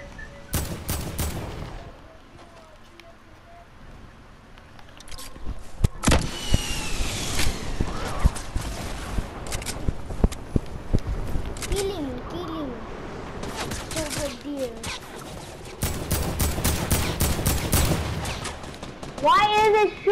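Bursts of rapid gunfire in Fortnite, including suppressed sniper rifle shots, come in clusters of sharp cracks with quieter gaps between, mixed with game effects while players talk over them.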